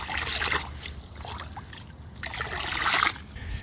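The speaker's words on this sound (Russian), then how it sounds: "аккуратно поливаем наши растения обычной водой" Plain water is poured carefully onto tomato and cucumber plants, close trickling and splashing coming in two louder bursts with a softer pause between.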